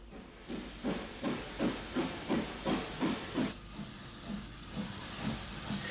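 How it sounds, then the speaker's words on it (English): S-Class steam locomotive number 62 Lugnaquilla entering Omagh station with a train from Derry, rhythmic chuffing exhaust beats in a steady series, strong at first and then softer and slower. "S-Class number 62 Lugnaquilla passes the north cabin and enters the station with a train from Derry"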